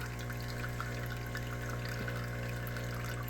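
A Kenmore KKSACM-B super automatic coffee machine flushes water through itself, giving a steady pouring and trickling sound over a constant low mechanical hum.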